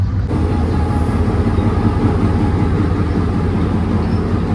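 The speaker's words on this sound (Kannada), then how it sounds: "ನೋಡಿ ಟ್ರೈನ್ ಬರ್ತಾ ಇದೆ ಅದೇ ಟಾಯ್ ಟ್ರೈನ್ ಥರ ಇದೆ" A small four-coach train in Sri Lanka rumbles steadily close by, a loud, continuous low drone and rattle of wheels and engine with no pauses and no voices.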